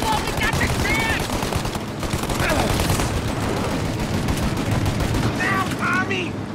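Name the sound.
gunfire in a mafia video game cutscene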